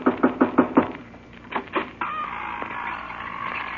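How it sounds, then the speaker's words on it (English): Knocking on a door in a cartoon, four quick, loud knocks close by, a pause, two more knocks, then a sustained tone rises underneath, with no talking. "I better knock on the door"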